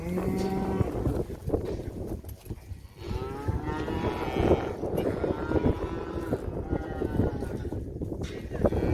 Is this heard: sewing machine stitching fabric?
no